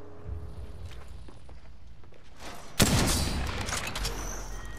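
Gunfire in the video game Apex Legends: faint distant shots over low game ambience, then one sharp, loud close burst with a sustained noisy tail.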